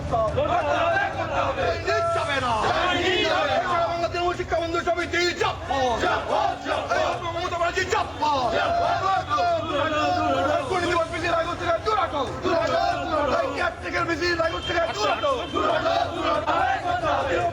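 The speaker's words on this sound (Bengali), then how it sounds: "বিশ্ববিদ্যালয় চত্বরে বিক্ষোভ তৃণমূল শিক্ষা বন্ধু সমিতি" A protest crowd chants and shouts on the Raiganj University campus, many voices rising and falling in dense, loud, continuous waves.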